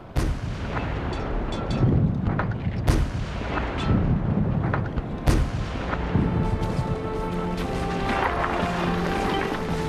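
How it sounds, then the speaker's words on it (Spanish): Loud, repeated direct cannon shots from a First World War tank battle: sharp booming blasts follow one another at uneven intervals over a continuous rumbling din, with no talk. "Un cañonazo directo tras otro."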